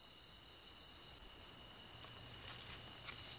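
Crickets chirp steadily in a high, continuous trill with a faint night-insect hum beneath, fairly quiet and unbroken throughout, with no voices.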